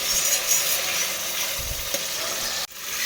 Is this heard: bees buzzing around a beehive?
no